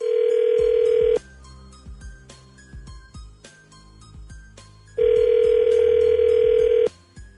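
A telephone ringback tone on an outgoing call, two long steady rings separated by a pause, clear and loud, with faint background sounds between them.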